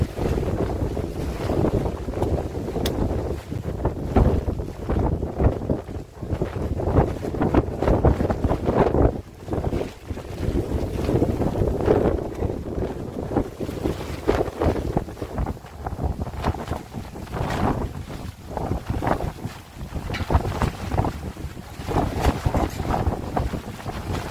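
Strong wind buffets the microphone continuously, a rough, gusting roar that rises and dips throughout with no voices.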